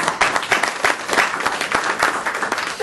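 Audience claps loudly at a city board of education meeting in Hoover, Alabama: a dense, continuous round of applause from a room full of people, with no speech.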